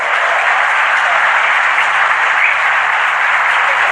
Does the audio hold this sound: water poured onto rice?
no